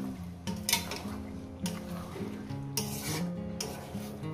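Spoon scraping and stirring spicy chicken kosha with tomato and coriander leaves in a pan, a close, rhythmic rasping with a few louder strokes and a faint sizzle beneath.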